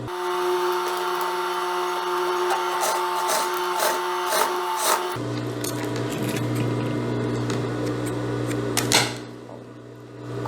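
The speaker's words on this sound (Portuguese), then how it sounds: "vou passar uma costurinha prendendo" A sewing machine runs steadily, stitching a seam to fasten the strap of a wide-leg jumpsuit, with a continuous mechanical whir whose tone shifts partway through and no talk.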